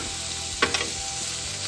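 Sautéed vegetables sizzle steadily in a hot pan with a harissa chicken dish, a constant close frying hiss broken by one brief scrape of stirring.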